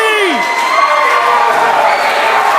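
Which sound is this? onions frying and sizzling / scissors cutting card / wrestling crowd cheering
wrestling crowd cheering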